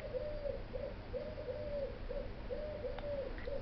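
A turtle dove coos on a beach at Cannes, a steady rhythmic series of soft cooing phrases repeating about every second over constant background wash, alone without talk.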